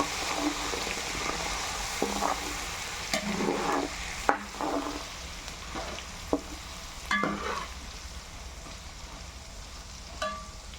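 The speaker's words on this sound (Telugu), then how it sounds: "పచ్చివాసన పోయేంత వరకు ఇలా నూనెలో ఉడకబెట్టుకుంటున్నాను" Fish pickle masala bubbling and frying in oil for a large fish pickle, a constant close sizzle broken by scattered scrapes and clanks of stirring.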